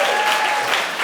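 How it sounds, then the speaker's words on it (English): A brief burst of dense, steady applause from an audience is heard up close and fairly loud. "then now you can clap."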